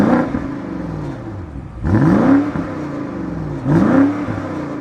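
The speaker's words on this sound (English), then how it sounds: "Let's see what it sounds like when you're just revving." A 2020 BMW X7 M50i engine revs through its quad exhaust in three rising blips, each sweeping up and falling back over a steady idle, loud and close.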